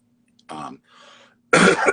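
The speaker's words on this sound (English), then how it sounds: "I never cough on camera ever, but here I am." Two short coughs, close and clear, separated by a brief quieter throat sound.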